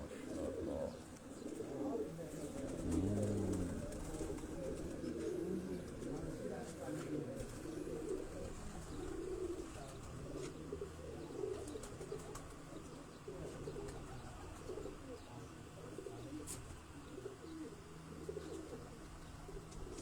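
Domestic pigeons cooing in a fancier's loft, soft repeated coos and low burbling calls running continuously, fairly near and quiet, with occasional wing movement and light background noise.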